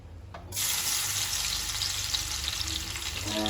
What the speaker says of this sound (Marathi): गरम झालेलं आहे हा त्यात लसूण टाकू